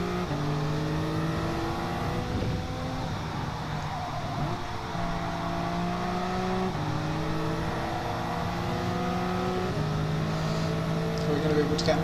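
Rally race cars, including a Subaru, drive flat out with close, loud engines revving through repeated rising gear changes and dropping back, a continuous mechanical roar throughout.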